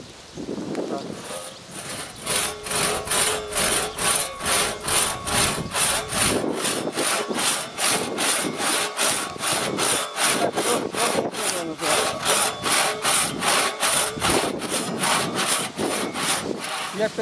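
Hand saw cutting through wood in a fast, steady back-and-forth rhythm, each stroke a loud, close rasp, continuing for many strokes with occasional pauses.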